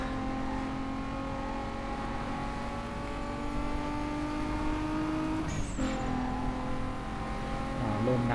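Sustained car engine drone from Need for Speed Most Wanted 2005, a steady loud hum with a brief higher squeal of tires as the car slides partway through, under light game ambience.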